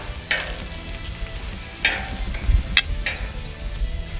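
Bacon sizzling on a flat-top griddle, a steady crackling fry with a few louder scraping or spatula taps, close and without talk.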